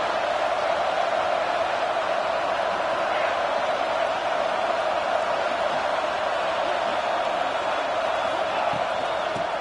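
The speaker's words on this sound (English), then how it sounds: "Listen to this crowd just shaking the girders of this place" Huge football stadium crowd roaring continuously, a dense, loud, even wall of cheering voices echoing through the stands, with a commentator speaking over it.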